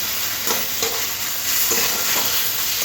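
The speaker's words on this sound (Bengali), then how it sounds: "দিয়ে সব কিছু ভালো করে পেঁয়াজের সাথে মিশিয়ে নিতে হবে" Ginger garlic paste being stirred into onions frying in a pan for a street-style egg devil, a loud continuous sizzle with rhythmic spoon strokes scraping through the mixture.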